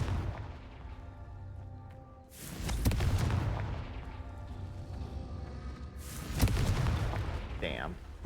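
Two big Confringo spell blasts in Hogwarts Legacy boom out about four seconds apart, each a loud burst with a rumbling tail, against a steady game background.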